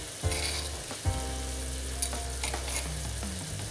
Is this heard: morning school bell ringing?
no